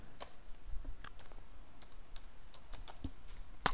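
Soft, irregular typing and mouse clicks on a computer, scattered light taps close by at a quiet level, ending with one sharper, louder click.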